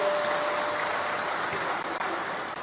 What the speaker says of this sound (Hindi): उनका भी ताली बजाकर स्वागत करें।